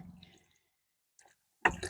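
Liquid from a garden weed-killing brew is tipped out of a bucket with holes in its side, brief splashing and trickling at first, a pause with faint drips, then a louder gush of pouring water near the end.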